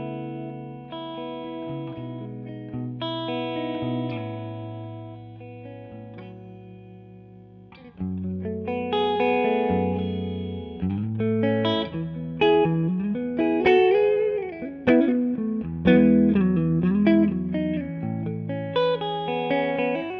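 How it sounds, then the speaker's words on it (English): An electric guitar through a Two-Rock Classic Reverb amp on the middle pickup, FET gain off, plays clean sustained chords and then a busier run of single-note licks, warm and close with no voice. "Here's how the 2-rock sounds on the 2-rock setting with the FET gain disengaged."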